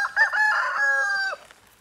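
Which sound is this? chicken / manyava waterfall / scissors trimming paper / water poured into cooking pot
chicken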